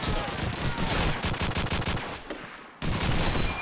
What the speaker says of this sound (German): So, ein Schuss für dich.